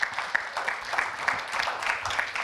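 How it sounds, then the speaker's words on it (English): Conference audience at a food tech congress applauding steadily, a brief, even patter of many hands at moderate distance with no talk over it. "Applause well deserved."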